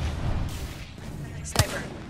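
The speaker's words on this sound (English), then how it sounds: "Thermite grenade out." In the Apex Legends video game, a thermite grenade is thrown, followed by a sharp, punchy blast within the game's muffled gunfire and action noise, all short and close.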